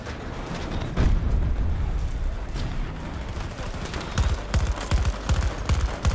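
In Battlefield 2042, AC-42 rifle fire and a surrounding firefight crackle in rapid bursts and rattling volleys, loud and near, with sharper clustered shots toward the end.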